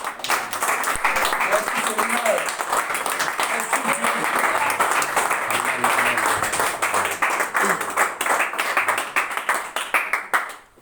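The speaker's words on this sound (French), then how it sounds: "Est-ce qu'on peut applaudir pour Dieu alors?" A church congregation claps and applauds for God, loud, sharp, rhythmic hand claps filling the room steadily, with voices calling out beneath before the clapping thins at the end.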